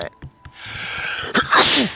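A single sharp human sneeze bursts out near the end after a short intake of breath, close and loud, with faint background sound before it.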